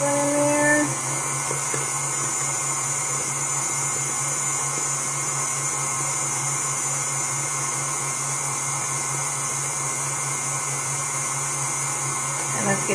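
An electric mixer beats vanilla wafer cake batter with a steady high-pitched whine that runs without a break from start to finish.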